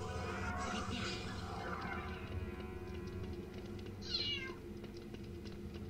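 A cat meows in a Harry Potter video game, the cry rising over a steady hum of game music and ambience, with one clearer meow near the end.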